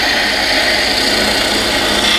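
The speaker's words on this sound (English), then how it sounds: "use that same size drill bit to drill the hole through the other piece." A power drill whines at high speed, its bit grinding steadily through wood for a wooden kendama toy, loud and close for a couple of seconds.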